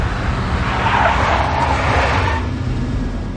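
A big black Mercedes in the Max Payne video game skids with loud, sustained tire squeal and engine roar, close and continuous for several seconds with no talk over it.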